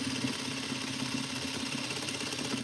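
Domestic sewing machine running steadily while stitching a fabric duster seam, a continuous close mechanical whir with rapid needle rhythm and no pauses.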